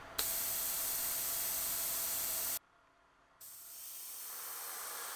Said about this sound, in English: Spray from about 10 to 12 centimeters away and move the airbrush in steady, parallel passes